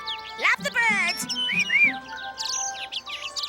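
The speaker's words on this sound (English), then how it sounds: "Oh, Papa, don't you just love the birds?" Cartoon birds chirp and tweet in rising, warbling calls alongside a voice and another character talking in an animated Bible story, the bright chirps scattered throughout and mixed with speech.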